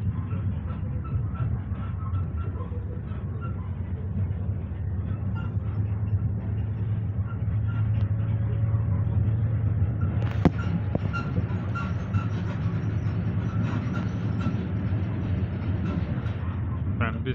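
Inside a moving Moscow metro car heading to Ostankino, a loud continuous rumble of wheels and motors fills the space, with occasional rattles and a brief squeal.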